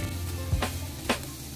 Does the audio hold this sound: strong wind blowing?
no